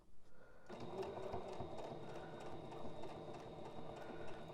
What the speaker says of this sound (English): How do you keep sewing around? How do you move it around the foot?